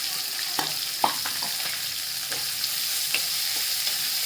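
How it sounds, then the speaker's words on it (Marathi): Chopped onion sizzles as it fries in a pan with garlic and curry leaves for a Bombay duck (bombil) curry, a steady close sizzle with occasional stirring clicks and scrapes, no voices. "आता याच्यामध्ये बारीक चॉप केलेला कांदा टाकते"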